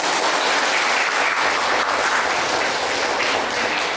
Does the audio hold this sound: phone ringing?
no